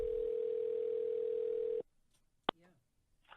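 A steady telephone dial tone sounds loud and continuous as the handset is lifted, then cuts off abruptly, followed by a brief click and a short burst of voice.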